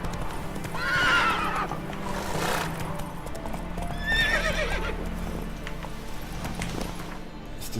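Horse in The Witcher 3 whinnying twice while its hooves clip-clop at a gallop, a loud, close neigh near the start and another midway over steady hoofbeats, no speech.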